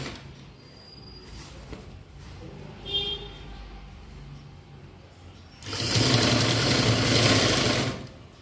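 A sewing machine stitches school uniform shorts, starting after a quiet stretch of faint handling and running in a loud, steady, close whir for about three seconds before stopping.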